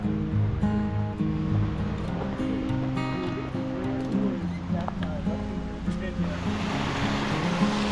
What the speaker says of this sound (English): So here's the dam that feeds the waterfall.